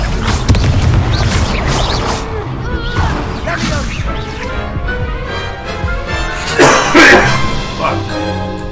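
A Confringo fire spell explodes during a wizard duel in the Hogwarts Legacy video game, giving loud booming bursts with crashing impacts amid busy battle effects and music, with the loudest blast near the end.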